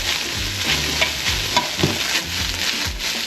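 Fried rice with green onions stir-fried in a pan: a loud continuous sizzle with rhythmic spatula scrapes and tosses repeating every half second or so, close up and without speech.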